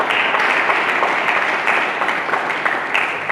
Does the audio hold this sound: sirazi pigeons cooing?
no